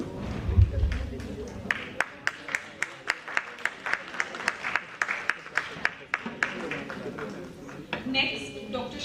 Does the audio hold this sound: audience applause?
yes